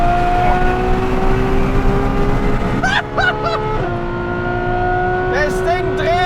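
A tuned Novitec Ferrari F12 N-Largo V12 revs hard in first gear, loud and close, with rising and falling engine pitch and a brief dip mid-clip, with voices heard faintly over it.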